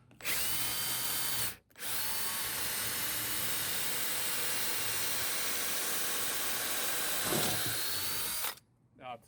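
A power drill grinds steadily and loudly into a stucco wall for several seconds. It stops briefly near the start and again at the end, and the sound is harsh and hissy.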